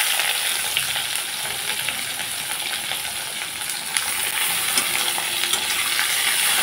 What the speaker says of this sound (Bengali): আলুগুলোকে একটু লালচে করে ভেজে নেব।